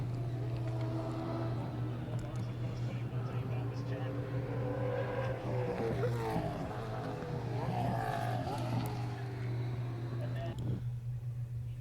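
Supercars race cars scream through qualifying at the Australian Grand Prix, engines rising and falling in pitch as they pass at a distance, under crowd chatter and a steady low hum.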